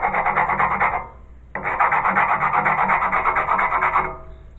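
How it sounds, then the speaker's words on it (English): Plastic piece rubbed back and forth against a table surface to smooth a rough edge, a steady rasping scrape in two long sustained strokes with a short pause between, close and fairly loud with no talking. "you can kind of smooth it out just with the surface of the table"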